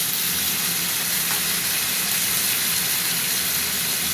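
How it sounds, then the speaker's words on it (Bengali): Loud, constant sizzling of spice paste frying in hot oil for a vegetable curry, close and unbroken throughout. "মশলাটা একটু ভাজা ভাজা হবে"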